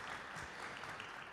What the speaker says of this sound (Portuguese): Salva de palmas.